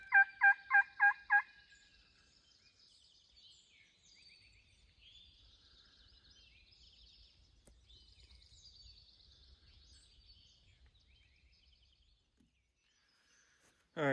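A wild turkey gobbles in Pennsylvania big woods during a hunt, opening with a loud rapid burst of about five notes, then distant gobbles and bird chatter faintly through the quiet woods, with a sudden loud sound at the end.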